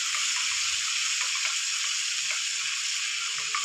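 Ginger, garlic and green chili sizzling steadily in hot coconut oil in a pan, a close, even frying hiss with faint stirring clicks and no talking.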